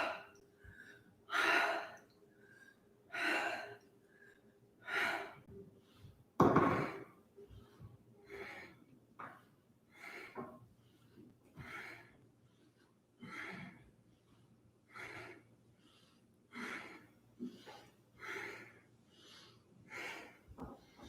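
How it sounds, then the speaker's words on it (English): Deep rhythmic breathing during kundalini yoga, slow audible inhales and exhales repeating about every second or two, close and fairly soft, with one sharper breath partway through and no talk. "Exhale as you round, inhale,"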